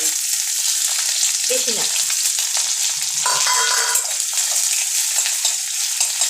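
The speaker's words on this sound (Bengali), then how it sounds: "তাই এই পেঁয়াজটা ভাজবো" Chopped onion with dried chillies frying in hot oil, a loud continuous close sizzle with a few stirring scrapes, and someone speaks briefly over it.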